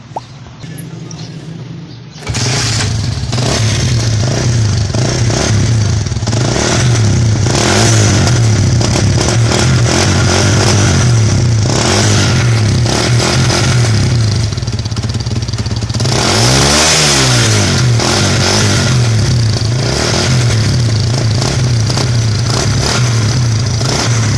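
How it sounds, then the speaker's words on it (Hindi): A 100cc motorcycle engine with a modified silencer runs loud and close with a rough, throaty exhaust note, rising into a sharp rev partway through before settling back to a steady rumble. "तो अब हम मोटरसाइकिल को स्टार्ट करके सिलेंसर का साउंड चेक करेंगे"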